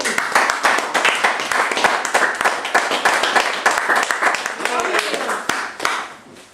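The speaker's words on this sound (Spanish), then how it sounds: "Den un aplauso a Cristo, hermanos." Church congregation applause for Christ, loud and close, with individual claps distinct within a steady flurry that gradually fades out.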